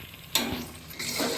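Green chilies frying in ginger garlic paste give a soft, steady sizzle, broken by a stirring clatter and then a brief louder burst of crackling.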